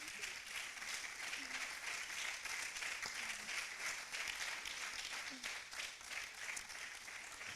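An audience at an African architecture students' congress applauds as department lecturers stand, a steady wash of clapping that fills the room for several seconds with a few faint voices underneath.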